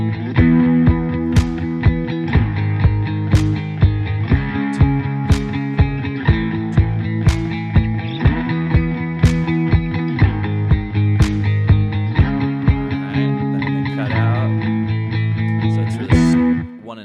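A song plays loud and full, with a steady pounding drum beat and driving eighth-note guitar building in repeating phrases, before a short drop at the end.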